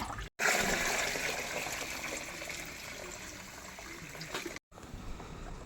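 Fermented liquid fertilizer, two litres of it, being poured into another bucket for dilution, a steady loud gush of liquid that runs almost without break apart from two short pauses.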